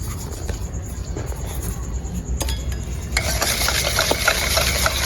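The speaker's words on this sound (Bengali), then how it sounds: "দিয়ে খুব সুন্দর করে মিক্স করে নেব এটা এভাবে অনবরত নাড়িয়ে ছেড়ে একদম ফেনা ফেনা করে ফেলতে হবে" Sugar mixture whisked continuously in a bowl until foamy for a cake, a fast, steady scraping and swishing close by, growing louder and busier partway through.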